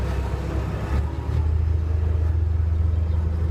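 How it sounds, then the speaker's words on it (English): A car being moved around a junk yard makes a steady, loud low engine rumble that swells and holds after the first second, with no voices over it. "they're moving a car here"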